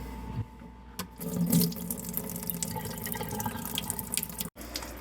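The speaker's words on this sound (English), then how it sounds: "Just draining all the water out of it" Water drains steadily from a nugget ice maker into a sink, a continuous moderate splashing flow with a faint low hum beneath, cutting out briefly near the end.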